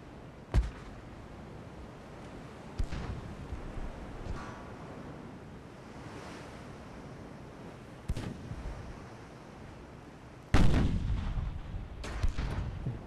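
Naval artillery fire from warships in the Ultimate Admiral: Dreadnoughts game: sharp, loud gun reports at irregular intervals, about five or six booms including a heavier salvo near the end, over a steady wind-like rumble, with no talking.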